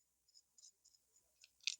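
Scissors snip at potted succulent plant roots in a series of small, faint, close clicks at irregular intervals, ending with one sharper cut.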